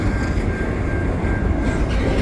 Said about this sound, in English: Oh, and that's the other train.